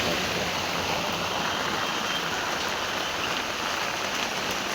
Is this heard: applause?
no